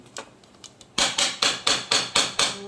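Sharp metallic bangs strike a pot in a steady rhythm, about six loud hits after a few lighter taps, close by.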